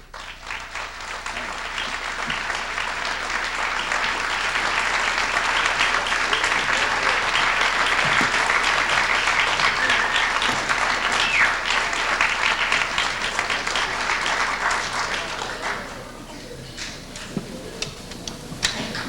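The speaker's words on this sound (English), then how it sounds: "really bring him out with a real round of applause to Red Crow Westerman." An audience welcomes a performer onstage with a long, full round of applause, dense and sustained at even loudness before thinning out near the end into a few scattered claps.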